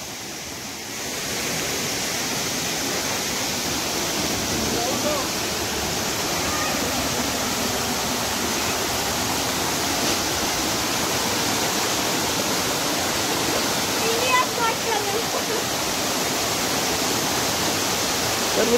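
A small waterfall at Mangaon in Sindhudurg, Konkan, pours muddy water in a steady, close, loud rush of falling water that continues without a break.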